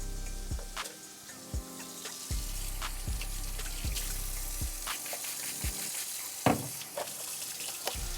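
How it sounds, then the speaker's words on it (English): Tap water runs into a kitchen sink for a hand wash beside a pan of frying shrimp scampi, a steady close rush broken by a few soft clunks and splashes. "I'm gonna scoot this up a little bit so I can wash my hands"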